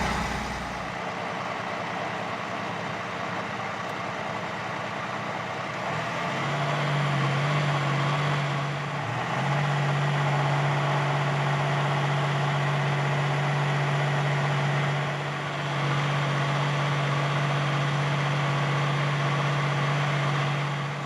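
Mercedes-AMG ONE hybrid hypercar engine running warm in Strat mode, a steady loud drone that swells into a sustained low hum partway through and holds, with no talking over it.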